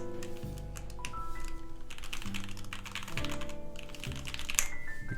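Rapid typing on a Cyber Board mechanical keyboard fitted with stock SP Star switches, a dense run of close, soft-clacky keystrokes over a low steady hum, with no talk.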